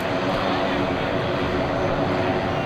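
Turboprop engines of a C-130J-30 Hercules roar steadily on the runway at an air show open house, a broad, loud, continuous drone with a faint voice under it.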